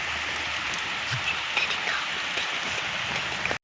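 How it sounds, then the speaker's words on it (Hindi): Heavy rain pours steadily on a village, a dense continuous hiss of drops with a few louder nearby splashes, no voices. "ये देखें जी बारिश जो शुरू हो चुकी है"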